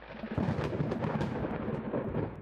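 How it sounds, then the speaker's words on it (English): Thunder sound effect in the vampire-themed video game Monster Romance: a continuous, heavy rumbling roll with rain-like hiss, steady and fairly loud, with no voices. "More great thunder, thunder, more ominous here."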